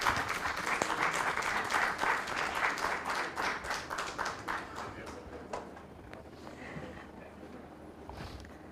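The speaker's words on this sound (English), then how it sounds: "Can we have a huge round of applause, please?" A hall audience at a national inter-bank quiz competition final bursts into loud applause, dense clapping that holds for several seconds, then thins out and fades to scattered claps.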